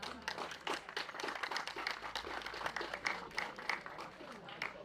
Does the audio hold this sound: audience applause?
yes